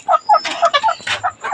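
A hen clucking close by, a quick run of about ten choppy, rhythmic clucks.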